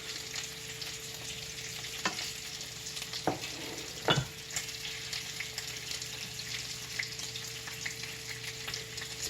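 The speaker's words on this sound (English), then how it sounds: "Give it a good stir, get everything mixed together." Beef and bacon taco filling simmers and sizzles in a pot while a spoon scrapes and knocks against the sides, a steady low hiss under occasional clunks, no talking.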